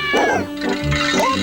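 Cartoon cat sound effect: a couple of whiny meows in quick succession, loud and near, over a low steady backing, from a Croatian-dubbed Harveytoons cartoon.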